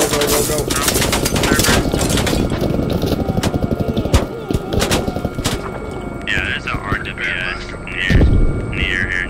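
Automatic gunfire aimed at a helicopter in the military shooter game Squad, dense rapid bursts with steady engine hum throughout and voices talking over the action.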